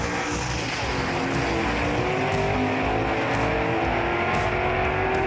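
A 1966 Ford Fairlane GT gasser with a 357 cubic inch engine roars down a drag strip at a race, a loud, continuous open-exhaust blast with rising pitch as it accelerates, no voices audible.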